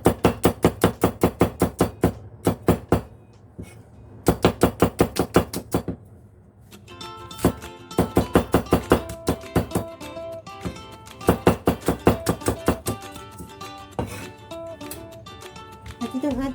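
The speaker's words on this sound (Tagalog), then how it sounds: "At ito naman yung ating onion ay slice lang." A knife slices an onion on a cutting board in fast, evenly spaced, crisp strokes, grouped in several rhythmic runs with short pauses between them, close and loud.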